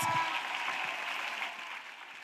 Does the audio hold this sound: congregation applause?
yes